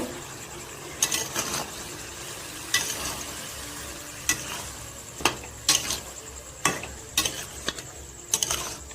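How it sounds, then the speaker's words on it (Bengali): Boiled banana flower sautéed in a pan for a prawn dish: a low, steady sizzle broken by irregular sharp scrapes and clacks of a spatula stirring, close and without talk. "মোচাটাকে দিয়ে দু পাঁচ মিনিট ধরে কষিয়ে নিব"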